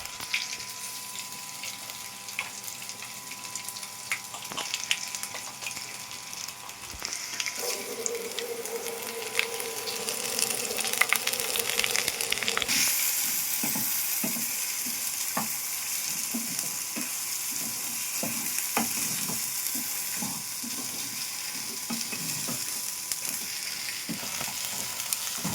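A paste of fresh raw turmeric and ginger fries in hot oil. It makes a continuous close sizzle with occasional stirring scrapes, growing louder and hissier about halfway through, with no talking.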